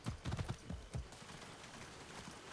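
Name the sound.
horses' hooves in the Far Cry 6 video game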